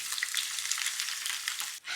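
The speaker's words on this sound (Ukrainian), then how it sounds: "Беремо цибульку і додаємо у сковорідку." Loud, steady sizzle of onion frying in plenty of hot oil in a pan, crackling continuously before cutting off abruptly near the end.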